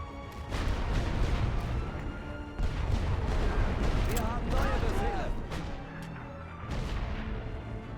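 Artillery fire in a Total War-style war video game: continuous dense rumbling booms and crashes fill the whole clip at steady loudness, with a few sharper impacts.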